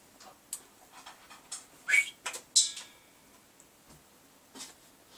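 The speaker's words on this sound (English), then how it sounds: "my dog seems to make some kind of disgusting noise every time I put the camera on" A dog munching close by, making irregular wet smacks and soft clicks, with a couple of brief high squeaky whistles in the middle, in an otherwise quiet room.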